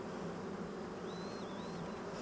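Honeybees at an open hive with brood comb exposed give a soft, continuous buzzing hum, faint and steady, with a brief higher whine drifting past in the middle.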